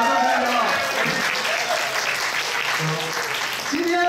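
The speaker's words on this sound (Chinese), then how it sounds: "好，大家掌声欢迎。" A crowd at a wild boar roast fundraising dinner applauds in sustained, even clapping, with a voice talking over the applause.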